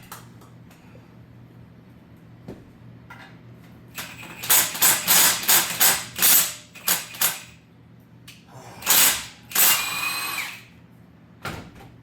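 Power tool, likely an impact driver, running on the AC compressor bracket bolts of a 2011 GMC Acadia during engine removal, several loud close rattling bursts separated by pauses.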